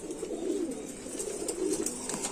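A Rampuri pigeon of the deep kalsara type, a shy Indian breed, coos in low, rolling bursts close by, with a steady faint hiss behind it and no voices.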